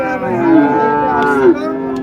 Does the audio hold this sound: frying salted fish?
no